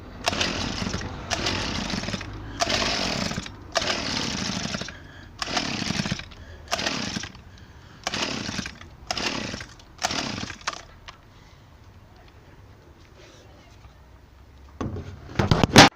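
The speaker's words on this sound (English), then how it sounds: "Trying to kick, let's put it on choke fully closed" A small engine kick-started with the choke fully closed, giving a run of loud, rapid bursts in close succession that then break off into quiet, with a sharp clatter at the very end.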